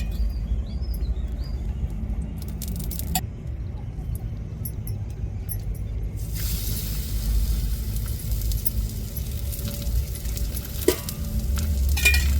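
Sweet roti frying in a pan gives a steady sizzle and crackle, with occasional stirring and scraping clicks and a low background rumble, with no talking.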